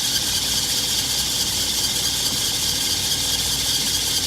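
A Volvo military jeep, a Pvpjtgb 9031 utility vehicle, idles with its engine running, a steady close rumble under a constant broadband hiss, even and unbroken throughout.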